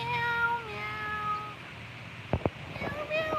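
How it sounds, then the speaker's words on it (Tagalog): A black cat meows several times in drawn-out, wavering cries, close by, with a couple of short sharp sounds and brief talking near the end. "Uy, nandito na yung Black Cat niya."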